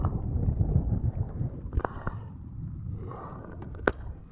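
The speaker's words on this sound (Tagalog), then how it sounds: "lumalakas na yung hangin guys tinitiis na lang namin kahit hangin na hangin na" Strong wind buffets the microphone out at sea aboard a small fishing boat, a steady low roar with gusty swells and a few sharp knocks or creaks from the boat, no speech.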